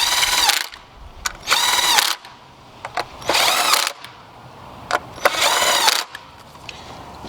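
A power tool tightens 10 mm bolts on the coil packs of a 2009–2015 third-generation Toyota Prius, sounding as four or five short, close whirring bursts separated by quiet gaps and small clicks.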